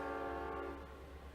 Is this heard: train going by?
yes